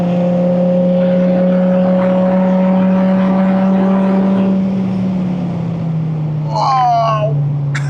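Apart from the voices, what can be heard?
Dodge Viper SRT10 ACR-X engine, throttle lift on track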